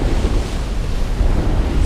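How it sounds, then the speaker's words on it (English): Large North Atlantic ocean waves some 25 nautical miles off Shetland, heard from a sailboat at sea in a southeasterly wind, giving a loud, steady wash of surf and rushing wind noise throughout. "And there are huge waves out here."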